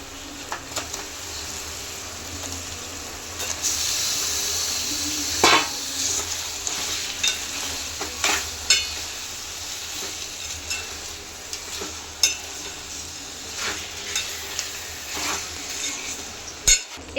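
Chicken pieces fry and sizzle steadily in a pan with onions and ginger garlic paste, with scattered stirring scrapes and occasional spoon clinks against the pot, close and moderately quiet, with no talking.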